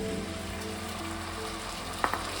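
Water from steamed hog plums is poured into a frying pan over fried garlic and onion, producing a steady close hiss and bubbling like rain on a surface, with a small splash near the end.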